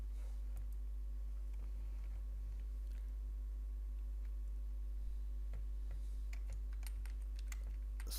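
Soft, rapid clicks of a computer keyboard as MATLAB code is typed, irregular keystrokes continuing throughout over a low steady hum.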